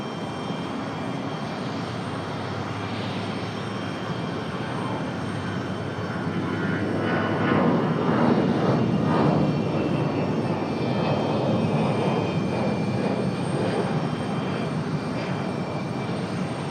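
An airliner takes off from runway 23 right at Raleigh-Durham International, its engine roar building steadily and swelling to a loud, sustained rumble midway, with no voices.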